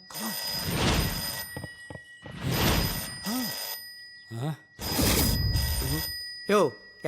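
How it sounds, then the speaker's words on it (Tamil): A telephone rings during a Tamil comedy film scene, a steady electronic ring running under loud, overlapping voices that talk and shout across the whole stretch. "ஃபோன் அடியா."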